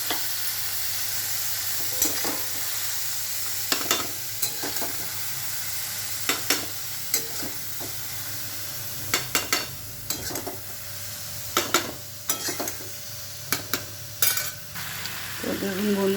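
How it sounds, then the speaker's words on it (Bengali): Capsicum, onion and mushroom fry with spices in a pan under a constant sizzle, punctuated by regular sharp scrapes and taps of a spatula stirring. "আমার সুন্দর করে ক্যাপসিকাম পেঁয়াজ মাশরুম সুন্দর করে দিয়ে মশলা দিয়ে কষানো হয়ে গেছে"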